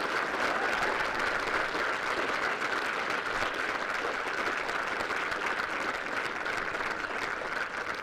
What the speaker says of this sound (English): Let's start with a round of applause for both of our players in our men's singles finals, Alfie Hewitt and Joachim Gerard.